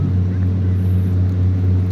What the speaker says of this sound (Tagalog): dumating yung isang motor diesel